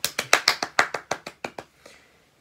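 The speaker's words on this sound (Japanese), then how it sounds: "夜中2時に一人で拍手をしております" One person claps alone in a quiet room at 2 a.m., giving about ten close, crisp claps in a quick steady rhythm that then stop, followed by a faint shuffle.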